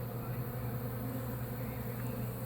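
Honeybees buzzing in and around a hive box at nightfall after removal from a cinder block wall, a continuous low drone that holds steady throughout, fairly close and alone.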